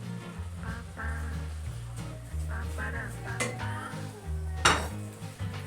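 A spatula stirs thick egg halwa with toasted bread crumbs in a pan, with repeated close scraping and clinks of metal on the pan and a faint sizzle underneath, plus one sharper knock.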